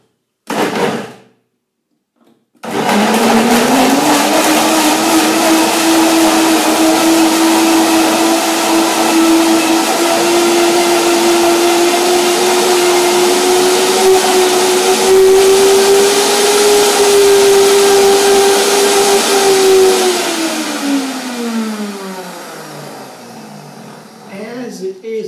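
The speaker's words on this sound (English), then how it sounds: "And now you will see my blender dance." A blender runs for about twenty seconds, blending a cucumber curry dressing with a loud, steady whirring drone that shifts slightly in pitch before spinning down.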